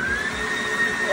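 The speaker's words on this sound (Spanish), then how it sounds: "Yo le voy a dar el máximo a la batidora." An electric mixer runs at full speed whipping homemade coconut ice cream, a steady, close whirring drone with a high motor whine that holds throughout.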